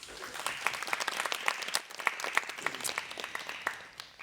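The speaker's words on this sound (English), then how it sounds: "Please give our professors a warm round of applause." An audience applauds professors at a KTH Royal Institute of Technology event, with dense, steady clapping from many hands that stays fairly even in level for several seconds before thinning slightly at the end.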